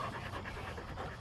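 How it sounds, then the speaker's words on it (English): An Irish Setter pants rapidly and rhythmically, close by, short breathy huffs repeating without pause. "This is my dog, Red."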